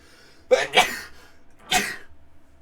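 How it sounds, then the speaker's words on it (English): Two quick sneezes in close succession, then a third a moment later, loud and near, with quiet background between. "I gotta sneeze"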